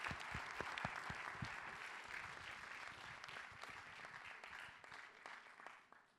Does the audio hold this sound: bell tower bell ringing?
no